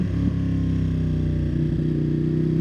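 A 2020 Ducati Panigale V2 sport motorcycle under way, its engine a steady, loud low drone with a clear harmonic hum and slight changes in pitch as it rides, no voices.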